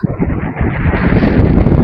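Wind blowing across the Parangkusumo sand dunes, a steady, loud broadband rush buffeting the microphone with gusty swells throughout, no voices present.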